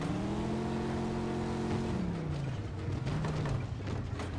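A car engine hums steadily while driving in Mafia II. Its pitch climbs and then drops as the car shifts, and it stays close and fairly quiet throughout with no talking.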